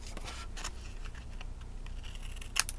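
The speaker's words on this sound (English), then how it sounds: "all we have to do after that is grab some scissors. I'm just going to trim that down" Close, quiet snips of scissors trimming craft paper for a large album, a few short crisp cuts spread over a couple of seconds with a sharper snip near the end, no voices.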